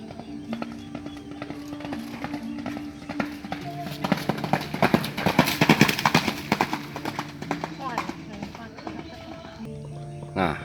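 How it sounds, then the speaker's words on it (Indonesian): A racehorse gallops hard on a practice track at Sumedang, rapid hoofbeats swelling louder as it passes close by and then fading, with people talking throughout. "satu kuda berlari dengan kencang full"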